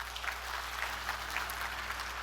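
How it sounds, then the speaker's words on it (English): A seminar audience at a leadership training session in the Philippines claps steadily as a dense, moderate wash of applause with no distinct individual claps standing out, holding even for about two seconds over a low steady hum. "Could you please give Riway a round of applause?"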